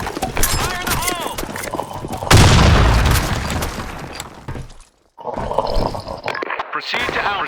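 A grenade blast erupts partway through a round of the shooter game Blackshot, loud and close, with a long rumbling decay and scattered sharp gunfire cracks around it, while a game voice calls out over the action.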